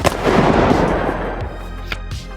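A G18 machine pistol fires a rapid full-auto burst in a video game, a loud dense crackle of shots that trails off into a couple of separate pops near the end.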